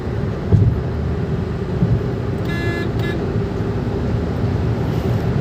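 A 2023 Maruti WagonR AGS automatic accelerates on the road, its engine and road roar steady and loud from inside the cabin, with a brief beeping tone partway through.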